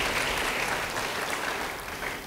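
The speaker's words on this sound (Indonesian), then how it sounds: "Yang mau beri tepuk tangan bagi dia." Audience applause during a church sermon, a dense steady wash of clapping that stays loud and continuous for about two seconds.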